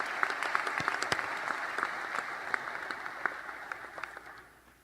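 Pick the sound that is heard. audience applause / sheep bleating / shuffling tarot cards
audience applause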